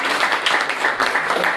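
Audience at a startup pitch event in a coworking space breaks into applause, a dense steady wash of clapping from many hands, fairly loud and close, brief and without speech.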